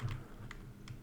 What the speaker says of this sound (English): I can use the keyboard keys to change this up and down